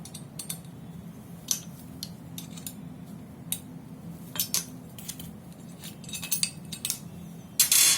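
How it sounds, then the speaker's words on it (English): Metal tool clicks and clinks as an Allen key and a fixed spanner work on the chamber screws of a sensor unit, irregular close taps and ratcheting ticks over a faint low hum, no talking. "you have to slacken this screws of this chamber"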